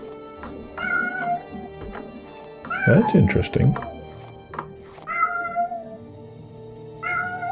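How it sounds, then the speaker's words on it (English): A pet cat howls in the background with repeated drawn-out meows and caterwauls, loudest in a cluster near the middle, while a person talks briefly over it. "Please excuse the cat howling in the background."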